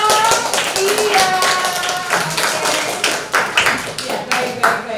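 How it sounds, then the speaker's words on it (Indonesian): Students clap in an Indonesian classroom during a teacher-training lesson, with a steady patter of applause mixed with chatter and voices throughout. "tepuk tangan dong"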